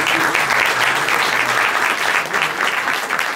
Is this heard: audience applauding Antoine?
yes